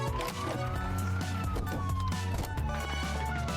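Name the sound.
police truck siren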